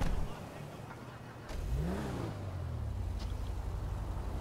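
Muscle car engine revving in GTA V Online, a rising mid-pitched roar that climbs and settles into a steady drone, heard moderately quiet beneath faint background sound.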